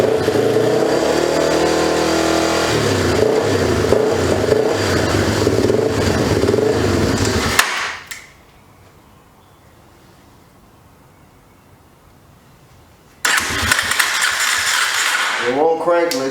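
A 2004 Yamaha TTR 250 with a troublesome carburetor revs loudly and unevenly up close, then cuts out to near silence before abruptly firing back up with a rising rev; a voice talks over it.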